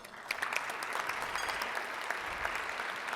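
An audience at a Rotary club meeting claps, giving a round of applause that is dense and steady, at moderate distance, with no talking.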